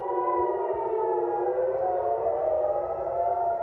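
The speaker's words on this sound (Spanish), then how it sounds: "en Israel, las sirenas sonaron en toda la ciudad de Haifa, después que Irán lanzara una andanada de misiles" Civil defense air raid sirens wail across the city of Haifa, Israel, during an Iranian missile barrage, a loud sustained rising-and-holding tone that fills the whole stretch without pause.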